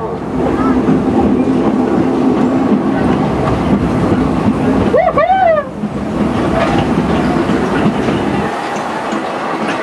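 A Silver Dollar City excursion train rolls along with a steady rumble and clatter throughout, joined midway by a brief rising whistle-like squeal, with faint talk in the background.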